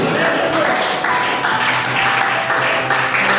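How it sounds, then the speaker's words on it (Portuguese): Loud, joyful clapping from a church congregation during a worship service, steady and rhythmic throughout, with voices mixed in under the hands. "Pode glorificar a Deus com palmas bem alegres"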